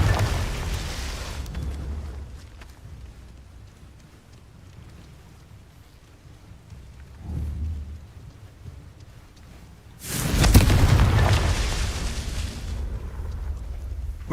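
A Confringo blasting spell explodes in Hogwarts Legacy, a loud, sudden boom bursting in after quieter rumbling ambience, preceded by a smaller thudding blast earlier and trailing into a lingering crackling roar.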